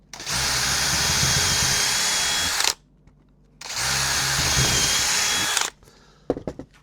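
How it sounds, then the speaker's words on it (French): A power drill bores holes into wooden gate rails in two long, loud, steady bursts separated by a short pause, followed by a few sharp knocks and clatters at close range. "Alors maintenant je perce mes traverses hautes et basses pour fixer mon cadre."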